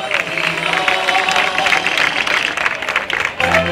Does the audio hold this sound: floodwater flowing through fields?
no